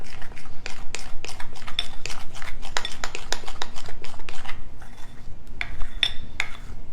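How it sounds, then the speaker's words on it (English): A spoon stirs mayonnaise biscuit dough in a bowl, giving a steady run of quick scraping clicks against the bowl, close and fairly loud, with a short pause near the end before a few more strokes. "So I'm just using a spoon and I'm stirring it together"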